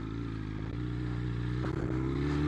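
A 2024 BMW S1000RR superbike fitted with an aftermarket exhaust idles and burbles steadily up close, its engine note droning evenly with small clattering blips throughout.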